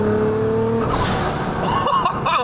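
A 1000 hp Nissan GT-R in Liberty Walk trim pulls hard under turbo boost, the engine note rising up close and then giving way to whooshing, fluttering blow-off sounds and a short chirp.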